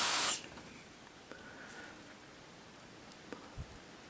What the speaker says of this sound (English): So I've got some lubricant spray.